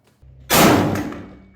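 A BCL Bison rifle fitted with a Trident muzzle brake fires one loud, close shot at a range, preceded by a low hum, and a metallic ring decays for about a second afterward.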